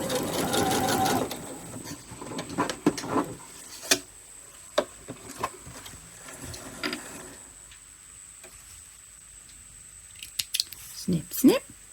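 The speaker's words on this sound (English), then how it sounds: "Snip, snip, snip, snip." Scissors snip thread and fabric while a Courthouse Steps quilt block is sewn, a short sewing-machine whir first, then a scattering of sharp, close snips and small clicks with quiet pauses and a brief voice.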